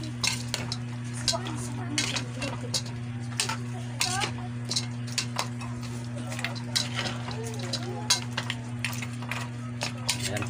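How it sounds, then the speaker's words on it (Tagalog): Pork humba being stirred in a pot with laurel leaves and peppercorns, with steady scraping and clinking of a utensil against the pot over a low hum and soft sizzle, while someone speaks. "I-mix lang natin."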